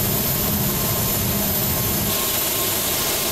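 A Philippine Airlines jet in the FSX flight simulator spools up for takeoff, a loud continuous roar and rush that eases slightly partway through, with no voices.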